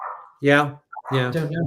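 A dog barks in the background of a live online discussion, with a couple of short yelps rising behind a person talking.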